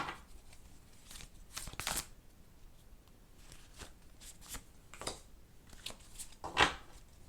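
Tarot cards riffle and slap softly as they are shuffled and drawn, a string of quiet brushing flicks with a couple of sharper snaps, close and faint.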